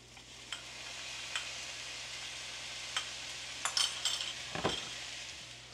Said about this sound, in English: Okay, let's go ahead and add our soy and our fish sauce.